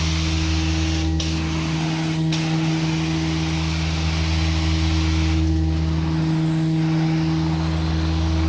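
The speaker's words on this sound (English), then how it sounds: "I'm just rinsing over it to neutralize it" A carpet cleaning extraction machine rinsing over treated spots on a carpet gives a steady, close droning motor hum with a constant whine, running without pause throughout.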